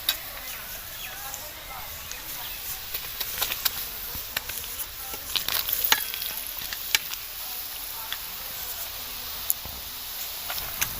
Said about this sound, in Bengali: এবার আমি এই ঘিয়ে ভেজে রাখা বেলগুলো সব শিরার মধ্যে দিয়ে দেব